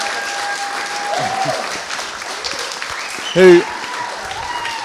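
Wedding guests at a reception applaud steadily and continuously, with voices talking over the clapping and a short loud burst partway through.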